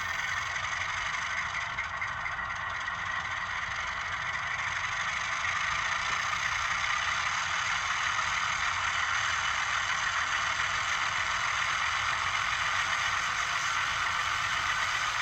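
A steady mechanical engine drone from a Blunami sound decoder in a Bowser RS-3 model diesel locomotive gradually builds in loudness and intensity as it revs to full power, a continuous rumbling whir with no voices present.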